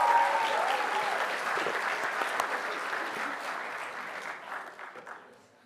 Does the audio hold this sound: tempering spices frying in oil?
no